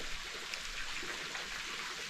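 Steady rushing and splashing of a small waterfall spilling into a natural pool at Carmelita Waterfall in Trinidad, a continuous, even wash of water heard close by with no voices.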